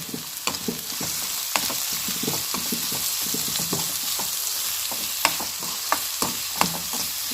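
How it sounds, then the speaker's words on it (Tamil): Onions sauté in a pan for a chicken samosa filling, giving a constant hiss of frying punctuated by frequent light taps and scrapes of a spoon, close and moderately quiet. "வெங்காயத்தை சேர்த்து நல்லா வதக்கி விட்டுக்கலாம்."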